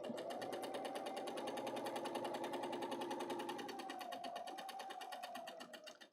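Bernina serger overlocker running steadily as it sews decorative stitching on black fabric, a fast, even mechanical whir that holds for about six seconds before slowing at the end.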